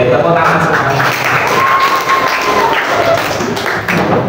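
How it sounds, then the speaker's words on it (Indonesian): A classroom group at a vocational high school claps on a teacher's cue, a loud, busy patter of hands with some thumping, mixed with voices and room noise. "Oke, tepuk tangan semuanya."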